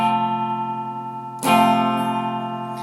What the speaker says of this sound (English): This is actually more considered an F bar chord.